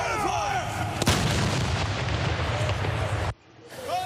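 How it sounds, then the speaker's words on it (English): A thunderous boom from two RCMP ceremonial cannons and a field gun at a sunset ceremony erupts and rolls on for a couple of seconds, loud and reverberant outdoors, then cuts to quiet as a voice begins. "Two RCMP cannons were loaded and fired along with a field gun from Fort Walsh."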